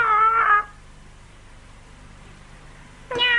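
A voice imitates a cat's meow, with an anime character giving two short, close mewing calls separated by a quiet pause with low background noise.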